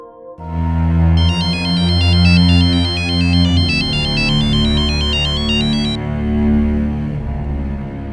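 A phone ringtone plays a repeating electronic melody for several seconds over a steady low background hum, then cuts off.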